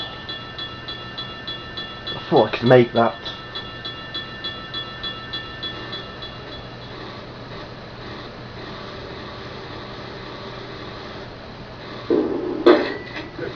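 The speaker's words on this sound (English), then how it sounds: "Oh no, it's a tram." A tram rumbles past a cyclist with a steady electric hum and rhythmic clunks of wheels over rail joints, swelling again near the end; a person speaks briefly.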